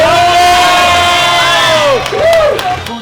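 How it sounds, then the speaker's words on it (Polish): A festival crowd cheers and whoops loudly at an eating contest, with rising and falling shouted voices over a steady roar of applause, then a brief dip before the cheering swells again. "moi drodzy, wielkie brawa!"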